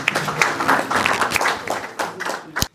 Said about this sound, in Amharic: ማጨብጨብ ይቻላል።